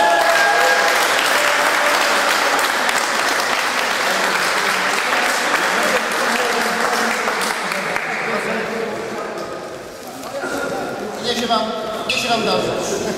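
A crowd applauds at the award ceremony of a volleyball tournament in Moszczenica, with sustained, loud clapping that slowly thins and tapers, then picks up again with scattered claps and voices near the end.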